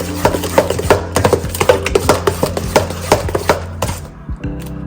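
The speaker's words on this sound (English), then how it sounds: "Go ahead and stir this up." Mashed banana and sugar are stirred in a bowl for Jamaican banana fritters, heard as a close, loud run of rhythmic knocking and scraping strokes of the utensil against the bowl, slowing near the end.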